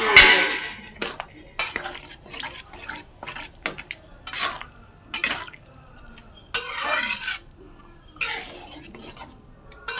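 Fried spice mix stirred into a pot of vegetarian ghugni, with repeated metal spoon scrapes and clinks against the pot in irregular bursts, close and fairly loud, alongside a faint steady tone.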